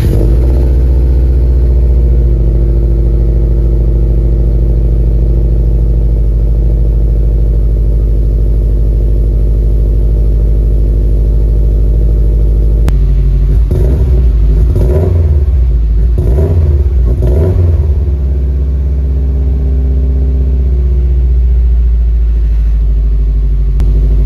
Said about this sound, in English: we're gonna do E85 Cold Start for the boys